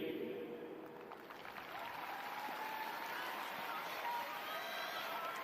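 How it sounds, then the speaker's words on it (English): Sparse applause from a limited crowd of soccer fans in a stadium before a women's professional match kicks off, a steady, distant wash of clapping with broad crowd noise and faint voices underneath. "Players taking a moment before this match kicks off, and you hear some fans applauding"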